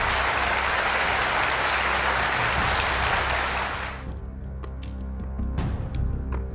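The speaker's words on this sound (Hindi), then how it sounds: "शिंजो आबे को फूलों और तालियों की गड़गड़ाहट के साथ विदाई दी गई" Loud, dense applause fills the first four seconds at Shinzo Abe's farewell as Japan's prime minister, then fades into scattered, isolated claps over quiet background noise.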